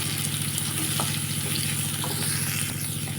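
Finely chopped onion frying in oil in a pan for a puffed rice snack, a dense continuous sizzle that stays close and loud throughout.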